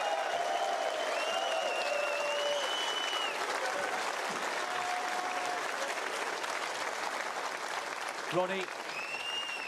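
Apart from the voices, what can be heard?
snooker crowd applauding the two finalists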